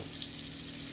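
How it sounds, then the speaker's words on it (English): A knife is rinsed under a running kitchen tap, a steady soft rush of water lasting about a second with no talk. "Now, before I cut it up in there, I'm going to wash my knife."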